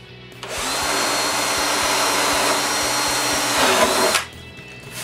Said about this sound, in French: Je commence par percer 2 trous, à distance des coulisses santé du dessous de la base, dans ma table de perceuse à colonne.